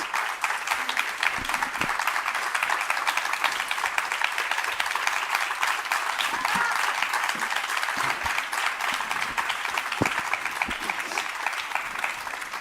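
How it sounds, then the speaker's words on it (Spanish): Sustained audience applause at a Spanish-language academic conference session on climate events and social vulnerability, a dense, steady wash of many hands clapping throughout with no pauses. "gracias a todos por el aplauso"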